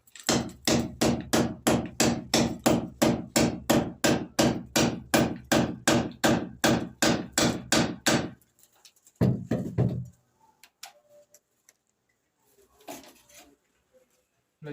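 Hammering into a house wall to cut a recess for an electrical wiring box: about twenty loud, evenly spaced blows in a fast steady rhythm, then a short scraping burst and faint scattered knocks.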